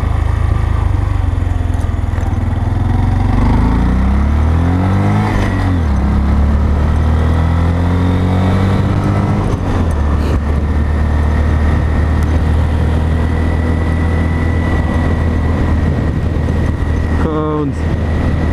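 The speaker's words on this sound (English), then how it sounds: "Oh, that's a tiny bike. That is a tiny bike." A small Honda Grom motorcycle engine drones loudly while riding, its pitch climbing and dropping through several gear changes, with wind rush and an occasional voice.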